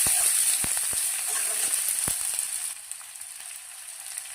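Onion frying with poha in a pan for a pilaf, a bright hissing sizzle with scattered spoon taps and scrapes, the crackle thinning and softening toward the end.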